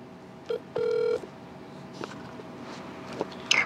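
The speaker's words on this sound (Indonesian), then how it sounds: "Tak matiin, tak telepon lagi ya?" Mobile phone keypad tones while placing a call back: two short DTMF beeps, then a longer steady dialing tone, followed by faint clicks and handling noise, all close and clear with no talking.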